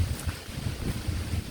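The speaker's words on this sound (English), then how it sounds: "I wonder if you guys can hear this wind." Steady wind rushes and buffets a microphone outdoors on a fall homestead among trees, a low continuous roar with no talk.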